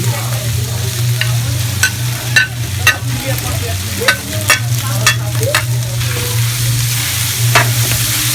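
Onion slices frying in a pan, a steady close sizzle with a low hum beneath and repeated clinks and scrapes of a utensil stirring; no voices.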